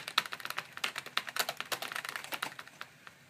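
Fingers type rapidly on the keyboard of an IBM PS/Note 425 laptop, giving a quiet, close, uneven patter of light plastic key clicks for several seconds.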